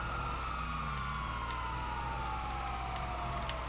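Emergency vehicle sirens in the FiveM GTA game, a steady wailing tone sliding slowly downward over a low engine drone, fairly quiet and continuous.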